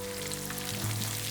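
Rohu fish pieces frying in hot oil over medium heat, a dense, steady crackling sizzle heard up close and continuous, with a low electrical hum underneath and no talking.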